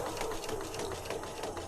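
A sewing machine steadily stitches through a file folder journal, its close, even mechanical whir running without pause and no voice over it.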